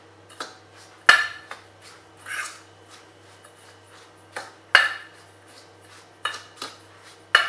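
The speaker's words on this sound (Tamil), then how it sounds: "இது எல்லாத்தையும் கலந்து விட்டுக்கிறேன்." Dry semolina, coriander, cumin and asafoetida being mixed in a bowl for a crispy semolina snack: scattered spoon clinks and scraping against the bowl, a few sharper knocks between softer rubbing strokes, close and moderately quiet, with no talking.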